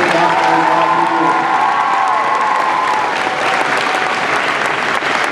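Applause at a school assembly honouring two retiring girls' basketball players after a provincial championship: loud, sustained clapping from a crowd with a few cheers, filling the whole stretch without letup.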